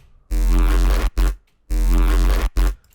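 A deep synthesizer response bass line made in the Vital synth plays a short repeating phrase, two sustained notes each followed by a brief stab, loud and alone.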